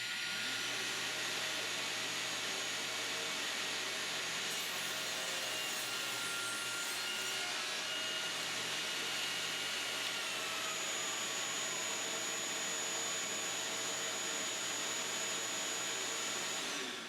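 A power saw cuts wood at a 13-degree angle while building a Roubo workbench, a steady whining, rasping cut that runs loud and continuous throughout with no talking.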